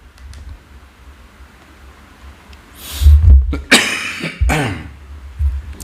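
A person nearby coughs a few times in harsh, throaty bursts over a steady low background hum.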